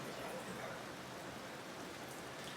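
Rain begins falling outdoors at the start of a Marathi daily vlog outing, a steady soft hiss of drops with no voices, faint and even throughout.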